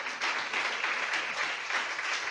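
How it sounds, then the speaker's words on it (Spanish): Brief burst of applause from a church congregation, a dense wash of clapping heard at moderate distance and fairly soft. "¿Usted puede darle un aplauso a Dios"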